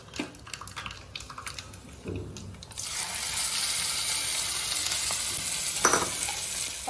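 Cumin and curry leaf tempering for a chutney: a few clinks and scrapes of a pan, then a burst of loud, steady sizzling as the spices hit hot oil, close up with no talk.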